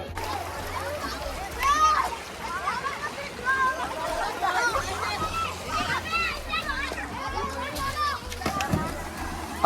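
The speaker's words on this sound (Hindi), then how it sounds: "बच्चे पूरा फुदक फुदक के नहा रहे हैं" Children splash and bathe in flowing stream water, with scattered splashes over a steady rush of water and excited high children's voices and chatter throughout, moderately close.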